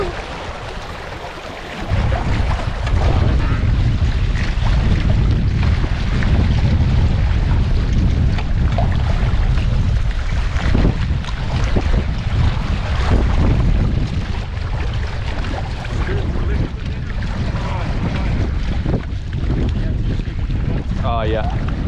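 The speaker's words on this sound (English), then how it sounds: "Oh, look at the wind there." Wind roars around a sailing boat at sea, loud and buffeting against the microphone with a constant low rumble after a quieter start, while people talk intermittently underneath.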